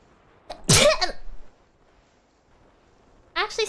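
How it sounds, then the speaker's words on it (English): A single sharp sneeze, close and loud, preceded by a short inhale and followed by a brief bit of voice after a pause. "actually sneezed that time."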